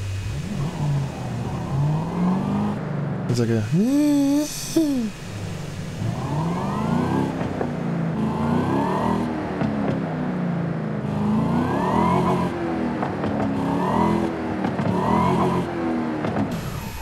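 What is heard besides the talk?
car engine revving in Forza Horizon 5 video game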